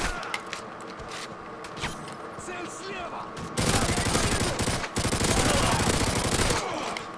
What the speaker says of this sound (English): it's a miniaturized submachine gun that you can use at longer ranges than you can use the other machine pistols